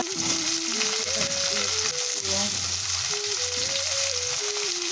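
Onions fry in a pan with cumin and bay leaf for an egg curry, making a dense, constant close sizzle. Faint tonal sounds drift in the background.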